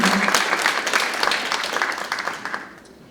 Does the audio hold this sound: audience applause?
yes